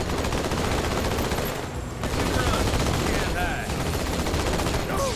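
Sustained battle gunfire from the shooter Halo 2, a thick continuous roar of overlapping shots and weapon noise, loud and close, with brief whining effects cutting through near the end.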